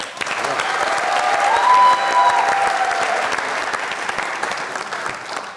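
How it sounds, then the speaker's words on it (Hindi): A studio audience at the comedy show Mazaq Raat applauds actress Kinza Hashmi's entrance with loud, dense, steady clapping that holds at full strength throughout. "तालियां।"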